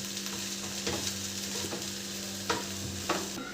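Lilva (pigeon pea) kachori filling being stirred in a pan, soft scraping strokes at irregular intervals over a low steady sizzle, close and fairly quiet with no voices.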